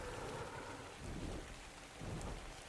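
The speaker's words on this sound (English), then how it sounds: "I hear the rain" Steady rain with rolling thunder in the video game Ark Survival Evolved, a dense, even wash of falling water with low rumbles swelling twice, fairly quiet and without talk.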